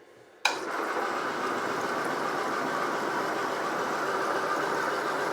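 A rebuilt Land Rover 2.25 engine catches with a sudden start, then runs with a steady, even mechanical drone close by, with no talking.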